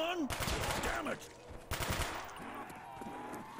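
Automatic bursts from an MP5 submachine gun in Call of Duty Black Ops Zombies, two rapid rattling volleys with ringing tails over faint game ambience.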